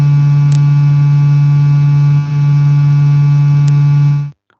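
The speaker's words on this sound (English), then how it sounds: "So that's the sound from within the vehicle" Recorded interior sound inside a vehicle: a steady, loud low hum with faint tonal overtones that holds for about four seconds before cutting off, with no talking.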